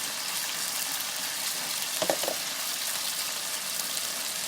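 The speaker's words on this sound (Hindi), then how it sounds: "प्याज को डालकर अच्छे तरीके से लाइटली हम ब्राउन करेंगे।" Onions frying in hot ghee for dal mash, a soft, steady sizzle throughout with a brief stir or clink partway through, no voices.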